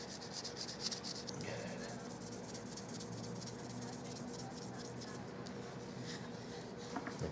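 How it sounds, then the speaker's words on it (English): A Turkish walnut shotgun stock for a Carl Stiegele 16 gauge is hand sanded around small checkered ribbons, a continuous soft rubbing and scratching close by with fine rhythmic strokes. "It's kind of hard to sand on something like this because all you got to sand is these little ribbons."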